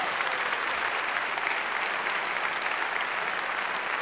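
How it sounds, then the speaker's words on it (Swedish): Applause for the orchestra's strings and wind players at a televised song contest, steady dense clapping from a large audience, even and sustained, heard alone without speech. "Och nu vill jag att ni också applåderar där framme."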